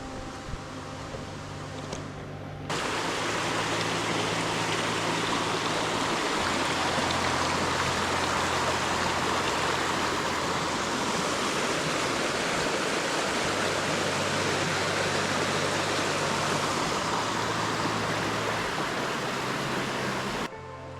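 Eagle Creek rushing beneath a trail bridge on a drizzly day, a loud, steady broadband wash of flowing water that begins abruptly after a short quieter opening, with faint low hum underneath and no talking.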